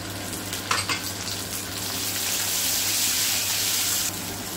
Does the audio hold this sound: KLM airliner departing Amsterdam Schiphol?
no